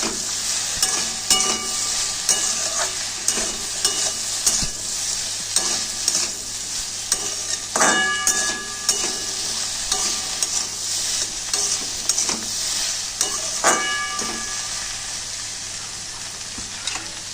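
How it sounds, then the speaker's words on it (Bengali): Okra and potatoes fry in a pan, sizzling steadily up close while a spatula stirs and scrapes with repeated sharp clinks against the metal, with no talking. "দুটো একসাথে করে ভালো করে ভাজতে থাকবো"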